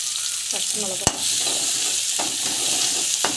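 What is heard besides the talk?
sautéing onion, chili, mustard seeds in oil in pan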